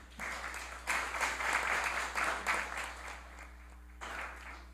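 An audience applauds at a plenary session of a municipal chamber: moderate, fairly distant clapping that swells in several waves over steady room hum.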